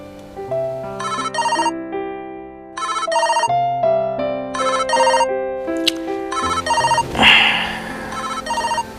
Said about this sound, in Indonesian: Telepon dari siapa?